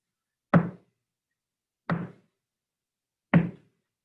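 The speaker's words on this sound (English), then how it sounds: "how many times did I knock?" Three separate knocks on a solid surface, evenly spaced about one and a half seconds apart, each short, dull and clear against silence.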